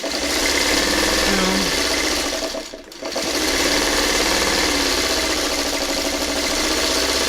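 Sewing machine stitching an unfinished quilt block runs steadily and fairly loud, pausing briefly near the three-second mark before resuming its continuous mechanical hum with a faint rattle.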